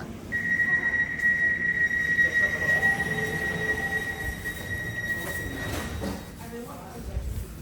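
Train rumbling at a London station platform, a long high squeal of wheels or brakes over a steady mechanical hum, with faint voices in the background.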